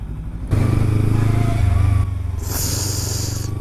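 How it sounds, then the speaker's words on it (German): A Honda Goldwing motorcycle passing on a German road, its engine a loud, steady low rumble heard from a car, dropping slightly as it goes by over continuous road noise. "Junge, hinter mir ist eine Goldwing."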